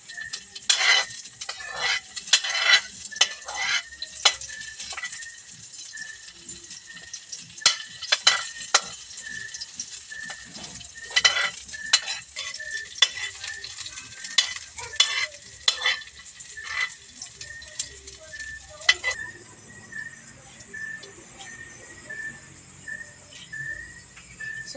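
Oil and onions sizzle in a pan while a utensil stirs them for Filipino adobo, with frequent scraping clatter over a steady fry that quiets to a softer sizzle near the end.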